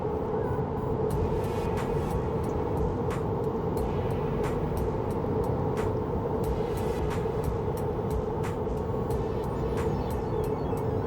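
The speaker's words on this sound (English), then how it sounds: "You can listen the noise inside the car at" Cabin of a 2019 Tesla Model 3 cruising on a Romanian highway at 90 km/h: steady low road and tyre rumble with wind hiss, continuous and even, with faint occasional ticks and no talk.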